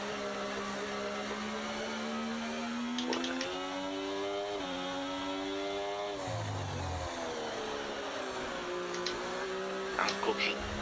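A race car in a racing video game, driving on a wet track in the rain at a Spain round, its engine whining steadily and shifting pitch as it accelerates, with faint tire and spray noise underneath.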